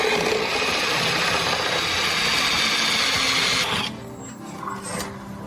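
A power drill bores holes through the outer and reinforced body plates of a 2024 Ford Courier, a loud continuous whirring grind that cuts off abruptly near the end, leaving a quieter background.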